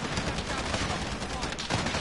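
Grenade launcher fire in a video game battle, a dense, loud barrage of rapid shots and blasts running continuously without a break.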